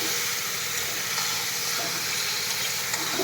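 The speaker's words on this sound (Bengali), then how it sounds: "দেখো মাংসটা দিয়ে দিলাম, চিকেন এটা কষা হবে।" Chicken pieces sizzling and frying in a pan as they are stir-cooked, a dense continuous hiss at close range with faint stirring scrapes, and no voices.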